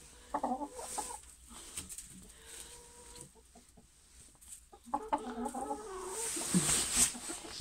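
Hens cluck and squawk inside a chicken coop in a garden, with scattered close calls and short bursts of clucking, busier and louder toward the end.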